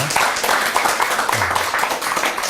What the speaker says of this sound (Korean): 여러분 큰 박수 한번 보내주시기 바랍니다